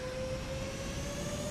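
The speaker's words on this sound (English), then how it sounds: "Oh, that's full fucking takeoff power." Airliner engines spooling at full takeoff power in Microsoft Flight Simulator, a steady loud roar with a sustained high whine held throughout, no voices.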